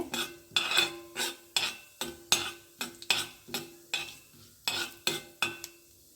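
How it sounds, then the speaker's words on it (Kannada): Oil sizzles softly in a pan as turmeric and asafoetida temper, while a spoon strikes and scrapes the metal about a dozen times in an uneven rhythm. "ನೋಡಿ ಒಗ್ಗರಣೆ ಬೇಯ್ತಾ ಇದೆ"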